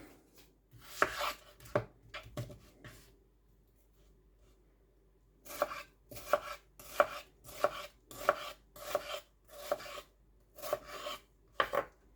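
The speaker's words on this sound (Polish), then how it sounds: "Cebulę kroimy w drobną kostkę." A knife dices onion into small cubes on a board for a beef stroganoff soup. A few quiet chops come first, then a pause, then a steady run of soft, evenly spaced cuts close by.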